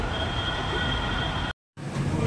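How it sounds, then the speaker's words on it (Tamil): A metro train rumbles steadily at a station in Kochi, a loud, continuous rolling roar with a brief cut before the noise resumes. "மெட்ரோ ஸ்டேஷனில் இருக்கோம்."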